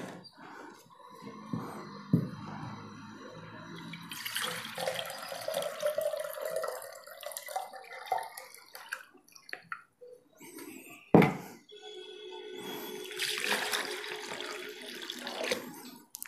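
Tender coconut water with bits of soft flesh is poured through a strainer, giving quiet splashing and trickling in uneven bursts, with a couple of sharp clinks of a vessel.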